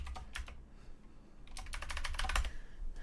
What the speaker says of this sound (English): Typing noises.